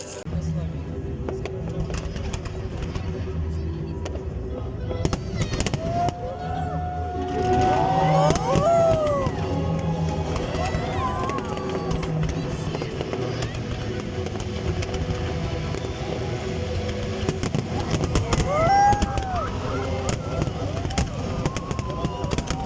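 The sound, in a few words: fireworks display at city day celebration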